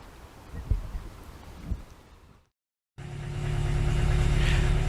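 An Invacar engine starts after a brief silence and settles into a steady, close idle that holds loud and even, following a few faint knocks and handling sounds.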